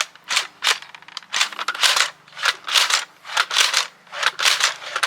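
A Nerf Elite 2.0 Eaglepoint blaster being primed and fired, sharp plastic clacks and snaps repeating in a steady rhythm of about ten bursts, close and loud, with no talking.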